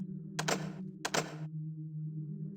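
Guard footsteps in the stealth game Thief (1998), sounding like tap shoes: two sharp, clacking steps land about half a second apart over a steady low hum, each with a brief bright ring.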